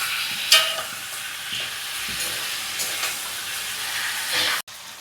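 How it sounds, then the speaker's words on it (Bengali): Chicken pieces frying in a pan with salt and turmeric, a steady bright sizzle with a few stirring scrapes, close and continuous. "এরপরে চিকেনটা ভাজা হচ্ছে, তার জন্য একটু সামান্য নুন দেওয়া হলো আর অল্প একটু হলুদ দেওয়া হচ্ছে, দিয়ে এটা ভালো করে ভাজা হচ্ছে।"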